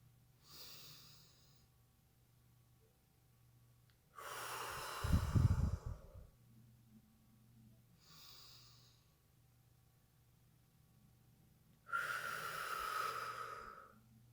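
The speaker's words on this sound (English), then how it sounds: "your breathing should look something like this" Slow, deliberate breaths for a squared breathing exercise, with long airy inhales and exhales separated by quiet pauses, close to the microphone and heard alone.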